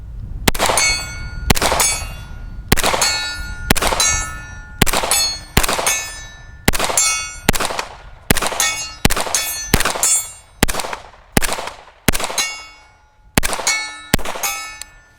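Steel popper target rings with sharp metallic clangs as 10mm rounds from a CMMG Banshee AR pistol strike it, about fourteen hits in a steady rhythm with ringing decay after each, loud and with no talk.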